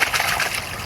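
A chunk of rock dropped into creek water makes a short, close splash with sloshing, set against the steady wash of a wild woodland creek.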